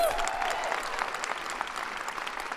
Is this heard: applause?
yes